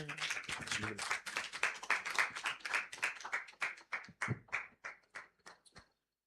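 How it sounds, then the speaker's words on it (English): Conference audience claps at a sickle cell disease event, starting as a dense burst and thinning into fewer, slower claps that trail off into silence. "Let's clap until they get here."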